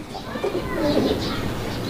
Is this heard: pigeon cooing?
yes